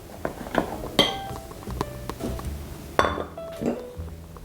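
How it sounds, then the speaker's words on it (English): Dry ingredients for a courgette loaf being mixed into wet batter in a bowl: a run of clinks and knocks of a utensil against the bowl, close and moderately loud, with no talking. "I'm now mixing the dry ingredients into the wet ingredients"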